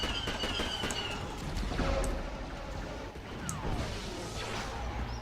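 Rapid blaster fire and impact crashes in the Star Wars: Force Unleashed video game, a steady barrage of shots and whooshing bolts at moderate loudness with no talking.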